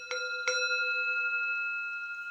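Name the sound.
sound healing bowl called the flower of life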